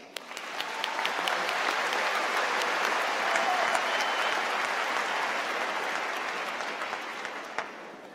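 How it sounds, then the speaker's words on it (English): A large crowd at a university graduate commencement ceremony claps steadily, swelling quickly to full applause, holding for several seconds, then tapering off slightly at the end. "Please join me again in applauding them."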